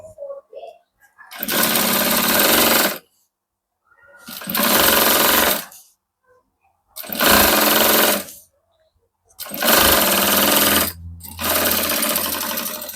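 A sewing machine stitches a fabric pencil case in four loud, close bursts of rapid mechanical whirring, each lasting one to two seconds, separated by short silences, with brief speech at the start and during a gap.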